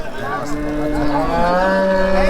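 A dairy cow at the Hazratpur cattle market lets out a loud, sustained moo close by, rising and holding for about two seconds over low background market noise.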